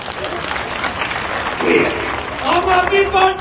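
A crowd at an Aam Aadmi Party political rally in Punjab bursts into applause, a steady wash of clapping that swells in the second half while voices call out over it.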